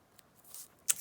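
A short snip of scissors cutting ribbon for a craft jabot, one crisp close cut after a faint lighter snip, otherwise quiet.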